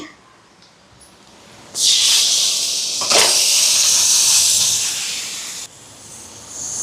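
Washed chicken tipped into hot oil with spice powder, bursting into a loud, steady sizzle a couple of seconds in that holds for about four seconds before easing off.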